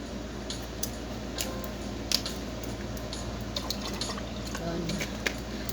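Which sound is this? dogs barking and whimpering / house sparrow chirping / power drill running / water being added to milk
water being added to milk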